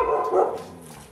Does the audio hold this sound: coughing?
no